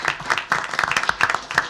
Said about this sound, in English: We'll give you another round of applause